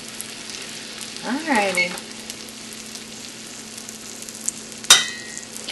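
Eggs fry in a pan at breakfast, a steady low sizzle running throughout with a brief clatter of tongs near the end; someone speaks a single word early on.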